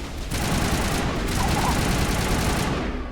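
Sustained automatic assault rifle fire in Mass Effect 1 Legendary Edition, a dense, loud, continuous rattle of shots with brief pauses, close and dominant throughout.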